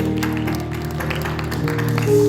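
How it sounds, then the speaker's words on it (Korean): A church congregation claps at a Friday prayer service after a hymn, a steady patter of hands over sustained organ or keyboard chords that keep ringing underneath. "하나님께 영광 박수 올리겠습니다."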